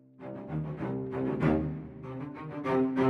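A string ensemble from the Spitfire Audio Mural Symphonic Strings library plays sustained, rich chords through close microphones, heard close and detailed with clear bow texture, swelling gently in volume.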